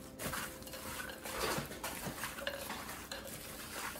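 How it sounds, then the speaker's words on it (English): Sausage and other ingredients get mixed in a crockpot: quiet, close clinks and scrapes of a spoon against the pot, with soft wet stirring and no voices. "And then we're just gonna give everything a good mix."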